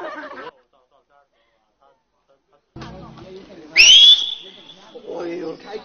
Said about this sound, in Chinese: 几声口哨声后，